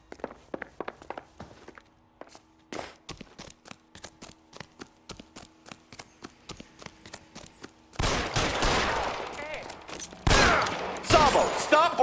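In the L.A. Noire video game, a run of scattered gunshots and footstep-like thuds plays at moderate loudness, followed by a louder, denser burst of shooting and commotion near the end.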